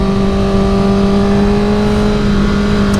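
Honda CBR1000rr sport motorcycle engine droning steadily and loudly while being ridden, a strong sustained tone with wind rush throughout and no pauses.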